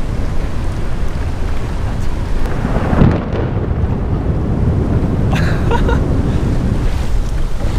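Heavy rain pours down in a thunderstorm beneath a bridge, with loud wind buffeting the microphone and a rumble of thunder partway through.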